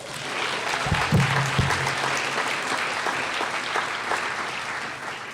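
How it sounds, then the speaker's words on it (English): Sustained applause from an evening lecture audience at a college hall, a dense even wash of clapping hands that holds steady throughout with a few low thumps near the start. "Let's give them a round of applause."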